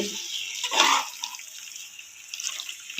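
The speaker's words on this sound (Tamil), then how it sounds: "இப்போ வந்து நம்மளுக்கு குழம்பு எவ்வளவு தேவைப்படுதோ அவ்வளவு நம்ம தண்ணி ஊற்றிக்கிடுவோங்க" Water poured into a pan of chicken curry already seasoned with masala and salt, a brief splashing pour swelling near the start then easing into a faint trickle, close and alone.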